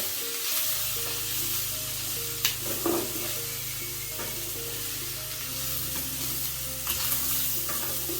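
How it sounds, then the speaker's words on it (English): Thickly chopped onions fry in a pan with a soft, steady sizzle and a few light knocks from stirring; the sound is close and fairly quiet, with nobody speaking. "I'm going to leave this for another 5 minutes so that the onions can turn translucent"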